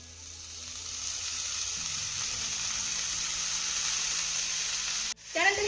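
Finely chopped coriander leaves sauté in a spice mixture in a pan for crisp kothimbir vadi, a steady close sizzle with light stirring, ending in a brief clatter.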